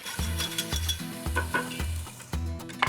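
Beef broth sizzling in a hot pan as it deglazes the browned bits, steady frying hiss with a low rhythmic hum-like pulsing and occasional stirring scrapes, close and fairly loud.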